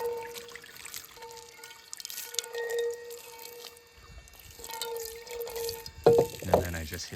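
A tap runs into a small sink in a camper van as something is rinsed, a steady trickle with a faint tonal hum, continuous and close, with a person talking over it.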